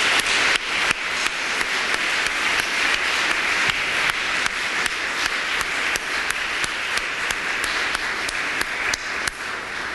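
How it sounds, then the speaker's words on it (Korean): A church congregation applauds warmly in encouragement of three families, producing a continuous, fairly loud stream of many hands clapping, with individual sharp claps standing out throughout. "우리 크게 박수로 세 가정을 격려해 주시기를 바랍니다."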